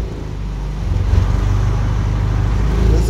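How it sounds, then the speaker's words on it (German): A Mercedes W211 with a 722.6 automatic gearbox revs up from idle, its engine rumble swelling and holding at a raised, slightly uneven pitch over a few seconds, close to the microphone. "Jetzt gib mal ein bisschen Gas"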